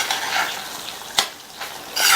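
A spoon stirs turnip and green pea sabzi in a pan, with soft scraping and faint sizzling, one sharp knock against the pan near the middle and louder scraping at the end.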